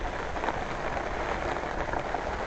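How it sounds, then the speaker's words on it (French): Steady rain pours down at a fishing pond, a dense, even hiss of drops with no pauses, close and fairly loud throughout. "Je sais pas si vous entendez ou si vous voyez. Il pleut."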